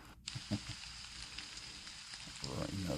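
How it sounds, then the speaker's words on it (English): Steady rain from the Kokoon relaxation app, a soft continuous hiss of water falling on a window and on crops, fairly quiet, with a few low bumps and a faint voice murmuring near the end. "water on the rain on the window, rain on the crops"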